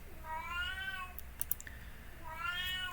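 A cat meows twice, a drawn-out rising then falling cry at the start and another near the end, with a few sharp clicks between them over quiet background hiss.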